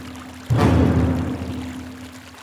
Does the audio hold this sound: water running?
yes